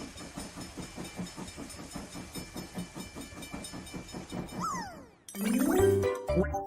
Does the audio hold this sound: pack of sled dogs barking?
no